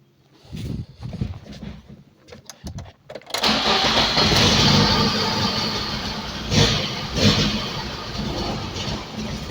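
A Lada Kalina engine runs at a fast, uneven idle around 3000 rpm with a tendency to stall. After a few faint knocks, a loud, steady engine roar starts at about three seconds and holds to the end with slight surges.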